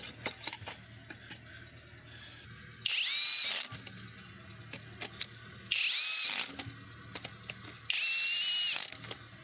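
Power drill tightening a bracket on a car, three separate whirring bursts of about a second each, close and loud, spaced by quieter intervals of faint clicks and handling noise, no voices.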